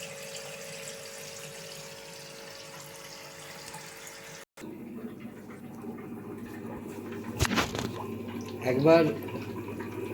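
Water drained out of a tub of koi fish eggs set up for hatching, a soft steady trickle and splash that swells near the end, with someone speaking briefly.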